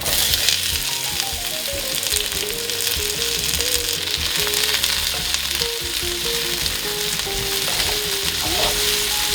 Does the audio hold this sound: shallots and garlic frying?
yes